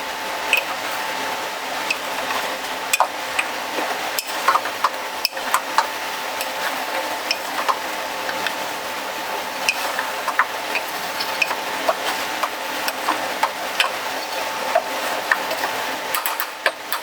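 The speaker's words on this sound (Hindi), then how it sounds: "इसके बाद इसे मिक्स करके अच्छी तरह भून लेंगे।" Tomato masala for chicken biryani frying in a pot, a steady low sizzle with scattered scraping and clicking from stirring, moderately loud and without voices.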